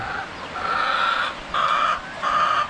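Native chickens in a coop cluck and call loudly in repeated drawn-out bursts, close by, over a soft background murmur of other birds.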